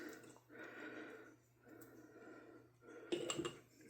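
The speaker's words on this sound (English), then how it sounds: "See if you can hear this. You hear those bubbles?" Sourdough starter on day ten, fed with unbleached all-purpose flour, gives off faint close-up crackles and tiny pops of bursting bubbles, soft and intermittent, ending in a denser cluster of clicks.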